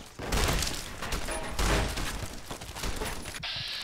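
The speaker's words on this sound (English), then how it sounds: "Let's fucking shotgun this guy." Gunfire in Fallout: New Vegas on very hard difficulty, with shotgun blasts booming in quick succession as a loud, dense burst of shots and impacts throughout, ending in a sharp hissing tail.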